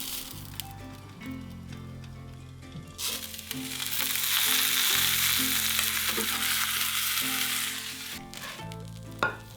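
Pork and vegetables sizzle in a covered frying pan while steam-frying, a steady loud crackling hiss that swells into a dense roar midway and then eases, with light clatter at the start.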